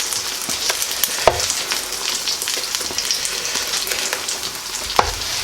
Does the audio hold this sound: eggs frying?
yes